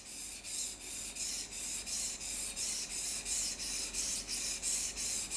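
A knife blade is drawn repeatedly across a Japanese water stone, about a dozen even, rhythmic rasping strokes, close and clear with no talking.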